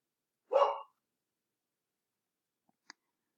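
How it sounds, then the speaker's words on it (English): One short dog bark in a quiet room, near and fairly faint, followed by silence and a couple of tiny clicks. "And that's my dog."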